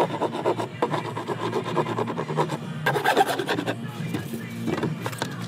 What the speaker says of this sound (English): I got my rasp right here. Gonna do a little deet.